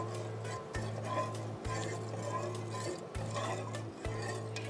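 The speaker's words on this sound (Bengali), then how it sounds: "তারপর একটি স্পুন দিয়ে আমরা নাড়বো সারাক্ষণ" A spoon stirs a sugar mixture in a pan over a lit stove, giving a continuous soft scraping and faint bubbling close by while background music plays with repeating tones.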